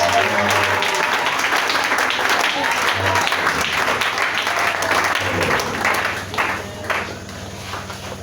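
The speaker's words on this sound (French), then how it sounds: "On acclame très fort le Seigneur." A church congregation gathered in an Assemblies of God service applauds loudly and steadily, dense clapping mixed with cheers and voices filling the room for several seconds before thinning slightly near the end.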